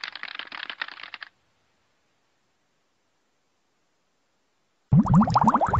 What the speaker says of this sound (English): You are now ready to start typing.